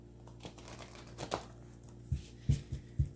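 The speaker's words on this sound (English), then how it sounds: "I'm going to shuffle a few times and just pull from the top for you." Cards rustle and flap in a quick flurry, followed by several soft, dull thumps as a large deck is shuffled up close for a tarot-style reading.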